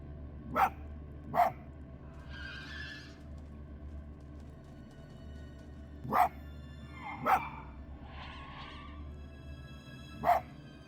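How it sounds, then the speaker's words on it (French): Five sharp fox barks in a video game ring out at uneven intervals, each followed by a hollow echo trailing off, over a quiet low background hum. "On entend un écho à mon aboiement."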